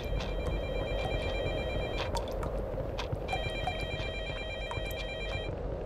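A telephone rings in the horror game Technician Nightmare, with repeated electronic ring bursts in two clear groups over a steady background hiss of game ambience.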